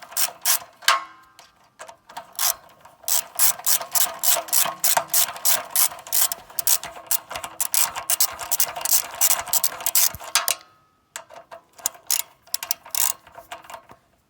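A ratchet wrench tightens the oil drain plug on a Forest King log splitter, clicking in rapid close bursts of ratcheting strokes with short pauses between them, loud and without talking.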